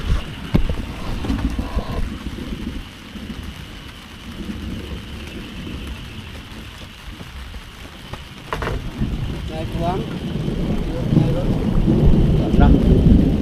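A thunderstorm with rumbling thunder and steady rain, loud and broadband throughout, with heavier bursts of rumble near the start and building again toward the end, plus some wind buffeting on the microphone.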